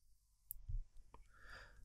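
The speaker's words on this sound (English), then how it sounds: "and then clicking the installation link in the left-hand menu" A computer mouse clicks on a link in a web browser, giving two or three sharp, faint clicks in an otherwise quiet room with no talking.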